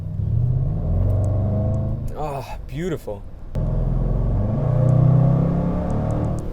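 A Range Rover Sport SVR's exhaust rumbles and revs on the road, a deep engine drone with a brief rising rev burst midway, while a voice speaks over it.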